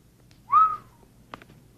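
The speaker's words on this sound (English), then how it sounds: "There is a reason to whistle, I presume." A single person whistles one short rising-then-falling note, loud and close. A faint click and brief tap follow in otherwise quiet room tone.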